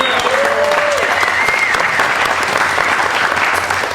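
An audience at a Garvin County precinct meeting claps steadily and loudly, a dense continuous wash of applause with voices faintly mixed in.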